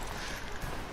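Horse hooves in Red Dead Redemption 2, a faint clip-clop of steps under a dense wash of game ambience and noise, brief and low in level.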